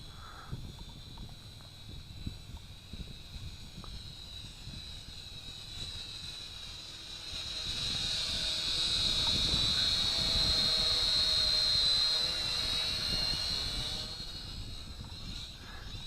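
JJRC H8C quadcopter drone flying, a steady high-pitched motor and propeller whine that swells louder in the middle as it passes closer, then eases back, heard alone without talk.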